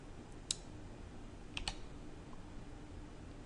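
A computer mouse gives a few soft, sharp clicks, a single one and then a quick pair, over a faint steady room hiss while virtual network switches are being set up.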